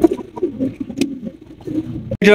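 Large king pigeons coo in short, low bursts at close range, with scattered rustles and a sharp knock near the end.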